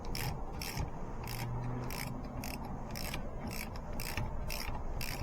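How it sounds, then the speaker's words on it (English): A ratchet tightens the bearing cap bolts on a Nissan R50 Pathfinder H233B limited-slip rear differential, giving a steady run of about ten evenly spaced clicking strokes, close and alone. "Tighten the bearing cap bolts."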